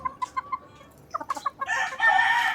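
Four cockerels about five months old cluck in a few short, evenly spaced calls, then break into loud, close crowing with overlapping bursts that grow fuller toward the end. No voices.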